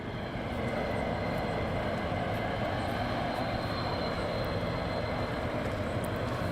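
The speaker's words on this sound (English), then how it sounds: "we can hear aircraft at the back there" Aircraft flying at RAF Lakenheath produce a continuous, loud, broad roar that stays steady throughout, with no voices over it.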